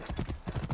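Horse hooves clip-clop in the Assassin's Creed Origins video game, a quick close run of about six to eight soft thuds in a brisk galloping rhythm.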